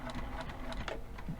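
A Juki sewing machine reverse stitches through fabric in a short, close, rapid clatter of needle strokes, quiet and alone.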